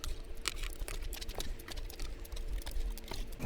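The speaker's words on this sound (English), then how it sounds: "I'm going to start taking out the screws." Small screws being backed out of a Topre keyboard, a dense run of light metallic ticks and clicks with scattered sharper taps, close and steady with no talk.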